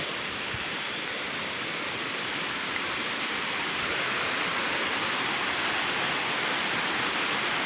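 Water pours down from above at a waterfall, a dense, even roar that stays constant and fairly loud throughout with no breaks or voices.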